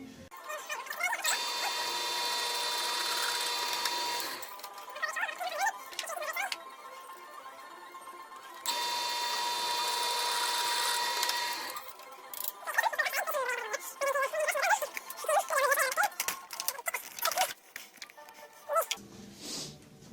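A drill biting into metal on a metal roller with a high grinding whine in two long sustained runs, followed by shorter stuttering bursts and rattles.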